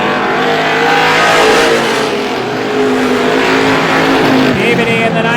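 Race cars roar around an oval at a speedway during a heat race, engines loud and continuous, rising and falling as they power down the straights and through the corners, under an announcer's commentary.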